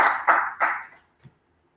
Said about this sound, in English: let us please give her one more round of applause